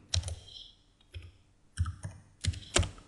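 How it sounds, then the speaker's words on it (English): Soft computer keyboard typing, a few quiet key clicks grouped in short bursts with pauses between them, heard close up with no talk. "So in here, I'm going to type a name in"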